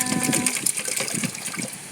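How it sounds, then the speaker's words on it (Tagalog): Water poured onto pechay and tomato seedlings and fertilizer, a close gushing, splashing stream running steadily for a couple of seconds. "Lagyan natin, guys, ng tubig para matunaw."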